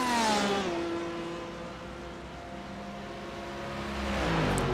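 Race car engine in a Le Mans sim racing game, the LMPC class leader closing on the GTE leader, with a steady high whine that rises and falls in pitch through gear changes, loud and close, no talk.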